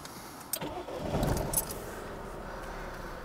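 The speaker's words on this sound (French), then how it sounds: "J'accède à présent au véhicule. Et je démarre." A car engine cranks and catches with a quick surge, then settles into a steady quiet idle, preceded by a faint key jingle; no talk during the start.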